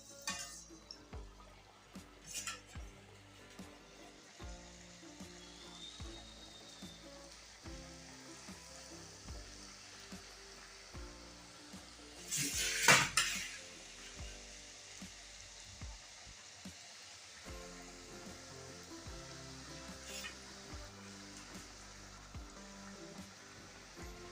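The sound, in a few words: chakri frying in hot oil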